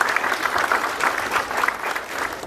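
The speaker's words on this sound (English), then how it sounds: "Yeah, we can clap for them." Audience clapping at a meeting of vocational training principals and industry partners, a steady burst of applause from a room-sized crowd lasting a couple of seconds.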